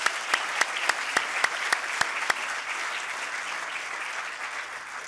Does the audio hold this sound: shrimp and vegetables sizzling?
no